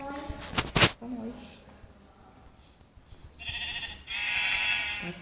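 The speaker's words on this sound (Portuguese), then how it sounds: "passou uma ovelha aqui" Sheep bleats from a Minecraft-like video game, with one clear bleat early on and a longer wavering bleat near the end, heard under and between players chatting.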